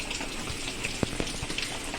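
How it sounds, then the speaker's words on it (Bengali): Light rain patters nearby with a soft steady hiss and a few distinct drips. "আজকে দেখো সকাল সকাল তোমাদেরকে বৃষ্টি দিয়ে শুরু করলো।"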